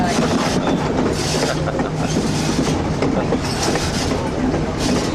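A train rumbles steadily along the rails with a continuous clattering roar, heard from inside or close up, loud and unbroken throughout.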